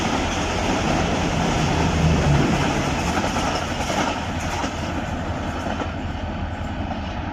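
A train rushes past at speed through Jhimpir railway station, a loud, steady rumble with rhythmic rail clatter throughout.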